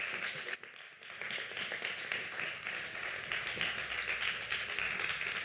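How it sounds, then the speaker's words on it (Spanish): An audience applauds a speaker at a climate event, producing a steady, fairly faint and distant wash of clapping that holds evenly for several seconds. "Un fuerte aplauso para ella, por favor."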